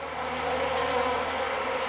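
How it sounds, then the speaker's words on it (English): Guard bees swarming out at a hive entrance, a dense continuous buzzing drone held steady and close for the whole stretch. "Those are guard bees. See them pouring out?"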